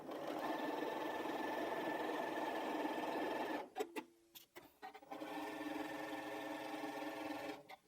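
A sewing machine quilting a strippy fabric bag runs in a fast, steady whir for a few seconds, stops briefly with clicks and handling, then runs again nearby.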